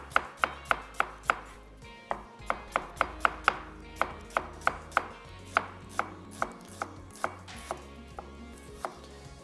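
A knife slices onions for dum bhaji masala in a quick, even rhythm of about twenty crisp chops against a board, close and clear, with no voices.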